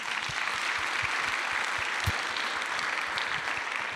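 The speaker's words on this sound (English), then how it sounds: "An applause for Venoranda, please." Audience applause for the grand prize winner of a youth citizen entrepreneurship competition at a summit awards ceremony, a dense, steady roar of many hands clapping that holds evenly for the whole stretch.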